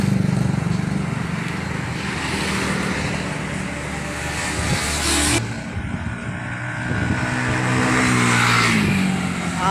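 A Yamaha Fino Classic scooter engine is pushed hard, loud and close, its revs climbing and falling in strained surges with an abrupt shift midway and rising whine again toward the end.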